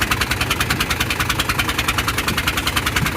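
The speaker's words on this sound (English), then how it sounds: "It's either a bad exhaust leak" A Ford Transit van's engine runs steadily with an exhaust leak, giving a loud, rhythmic puffing and ticking pulse over a low rumble, close by and with no talk.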